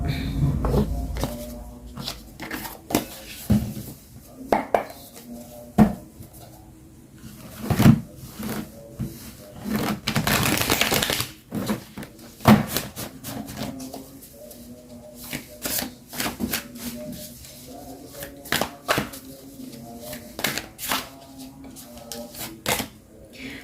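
Tarot cards are shuffled by hand in repeated crisp bursts and riffles with short pauses between, close to the microphone, with occasional soft handling knocks.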